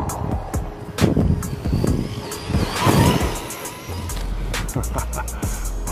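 A Vkar Racing Bison brushless 1:10 RC car runs fast, its motor whining in rising and falling bursts as it passes and turns, with wind buffeting and scattered clicks from the ground.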